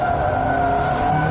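BMW E30 M3 with its 2.3-litre straight-four engine revving hard on a track, a steady loud high-pitched engine drone held close and continuous throughout, heading into a hairpin.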